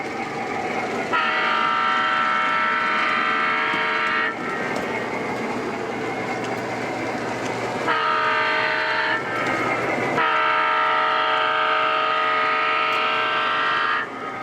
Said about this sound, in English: this eastbound Southern Pacific freight starts slowly down the hill